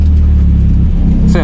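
Loud car engine on a race track held in second gear, a deep rumbling drone that drops briefly as revs shift, heard close up for a short burst.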